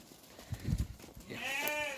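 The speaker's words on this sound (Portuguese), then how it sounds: "As ovelhas lindas aqui." Sheep in a livestock lot in Alagoas, Brazil, give a loud, close wavering bleat near the end, after some low rustling and movement.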